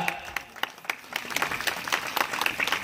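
Scattered hand claps from a small audience, uneven and fairly close, building into a light round of applause.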